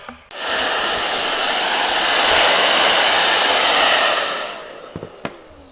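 Heat gun blowing hot air onto an iPad screen to loosen its adhesive, a loud, steady close whoosh that starts abruptly, holds for about four seconds, then cuts off, followed by a few small clicks.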